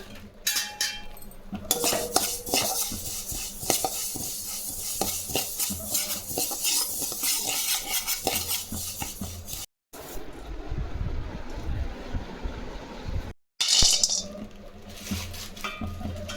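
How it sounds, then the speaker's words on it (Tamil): Sesame seeds dry-roasting in a pan for a multigrain porridge flour, stirred continuously: a dense, close rattle and scrape of seeds and utensil against metal, briefly breaking off twice, with no speech. "இது எள்ளுங்க இதையும் வறுத்து எடுத்துக்கலாம்"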